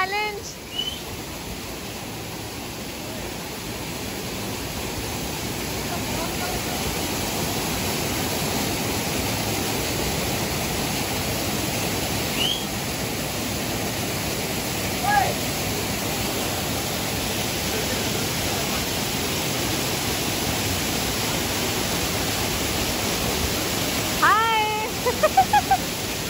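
The Bhatta Falls waterfall in Mussoorie makes a steady, loud, close-up rushing roar throughout, with a few faint bird calls barely audible over the water.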